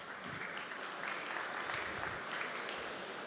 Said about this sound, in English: Big applause, please